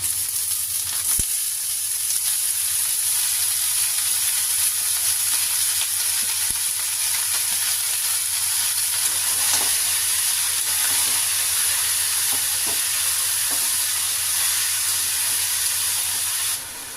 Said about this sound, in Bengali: পেঁয়াজগুলো আমি লাল লাল করে ভেজে নিয়েছি, এখন কেটে রাখা লাউগুলো দিয়ে দেব।